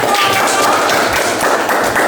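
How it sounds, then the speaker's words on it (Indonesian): A classroom of students claps hands together, a dense, loud burst of close clapping that fills the whole moment, with some voices mixed in. "tepuk tangan buat kita"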